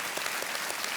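Studio audience on an Indian TV quiz show applauding a contestant, a steady, dense wash of many hands clapping that fills the whole moment with no voices over it.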